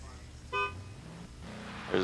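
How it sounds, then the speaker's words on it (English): A Lamborghini gives one short, bright honk of its horn at the start of a qualifying run. The toot is brief and fairly close, set against a low background rumble. "There's his horn"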